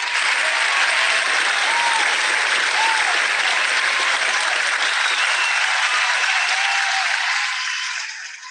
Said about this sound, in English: Adrienne, I hope you can hear the applause there